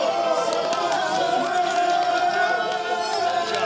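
A motor-racing crowd cheers for Honda driver Huff after his race win in Marrakech, a continuous distant roar of voices heard through the commentary-free clip.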